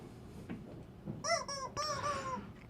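A chicken clucks and squawks in the background, with a few harmonic, rising calls standing out over low room noise.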